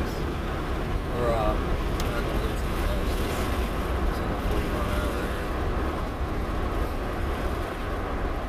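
A truck engine runs loud and steady, with a broadband roar held near 2100 RPM for the whole stretch. It stays close and dense, with no clear rise or fall.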